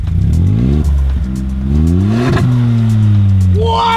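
Straight-piped Ford Bronco Sport with a 1.5 L three-cylinder engine revving hard, loud raspy exhaust rising and falling through several blips, close up, alone.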